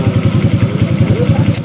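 A motorcycle engine runs close by while a mechanic works on it, a steady rhythmic idle thrumming with quick regular pulses and some clattering, and a faint whine rising briefly near the end.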